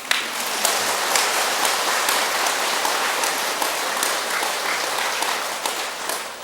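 An audience at a Buddhist temple gathering claps steadily for the abbot of Bulguksa, a dense, even wash of applause that carries on without a break from start to finish.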